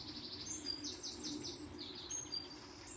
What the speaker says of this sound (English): And the birds are singing like they would be at home.